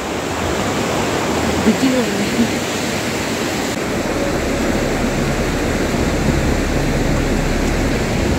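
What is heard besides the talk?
fast-flowing Parvati river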